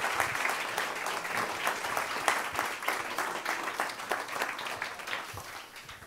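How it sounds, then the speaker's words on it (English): An audience at the Danube Salon of the Europa-Forum Wachau claps steadily in a hall, a dense, moderately loud round of applause that fades slightly toward the end. "And a big round of applause also for the national coordinator"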